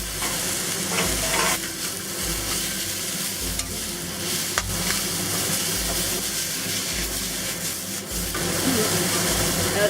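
Beef and green chili peppers sizzling loudly in a hot wok, with a steady hiss broken by rhythmic scraping stir strokes, close up and continuous.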